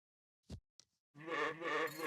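In the video game CrossCode, a goat enemy gives a short, loud bleating cry after two brief sound effects, with no talk.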